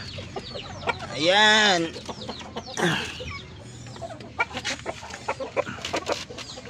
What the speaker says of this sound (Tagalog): Itong ating darag native chicken.